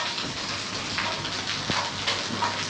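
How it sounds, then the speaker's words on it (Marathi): Heavy rain pours steadily at a villa farm stay in Badlapur, a dense continuous hiss of drops drumming on surfaces, close and even throughout with no voices. "जबरदस्त पाऊस पडतो आहे."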